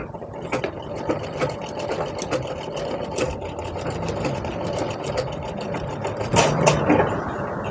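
Sewing machine stitching tucks into a blouse, running steadily with a fast mechanical whir and rhythmic needle clatter throughout, close and continuous.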